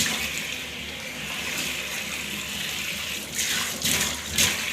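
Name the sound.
water running and draining in a sink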